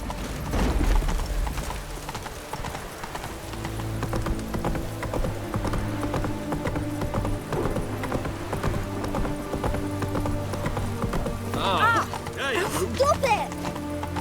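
Rhythmic hoofbeats from Roach, the horse in The Witcher 3, clip-clop steadily throughout, mixed with game music and effects and a brief whinny-like cry near the end.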